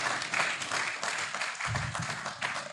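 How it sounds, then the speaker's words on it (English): Applause for the Honorable Minister at the official launch of an East African Community common market event, a short burst of dense, fairly close clapping from an assembled audience. "Let us give a hand of applause to the Honorable Minister."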